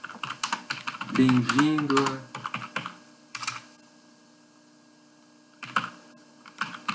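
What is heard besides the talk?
typing on computer keyboard in MS-DOS Edit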